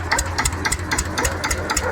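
An MTZ tractor engine idles steadily up close, chugging with a rhythmic knocking pulse about four beats per second.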